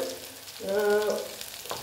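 Soya chunk koftas fry in hot oil, giving a soft, brief sizzle and a stirring scrape, close and fairly quiet with no talking.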